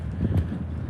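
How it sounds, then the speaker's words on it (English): Wind gusts buffet the microphone at Pier 39 in San Francisco, a steady low rumble with a brief stronger swell partway through. "A little more wind."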